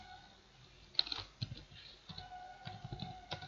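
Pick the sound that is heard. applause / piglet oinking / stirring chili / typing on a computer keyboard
typing on a computer keyboard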